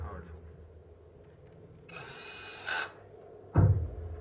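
Power tool whirs in a short, loud burst of about one second while driving out a flathead Phillips screw from a Floatwheel ADV2 board, followed by a brief low clunk, in an otherwise quiet room.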